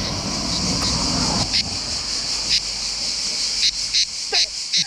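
Cicadas droning outdoors in a steady, loud, high-pitched buzz that runs without pause, with a few short sharper bursts near the end.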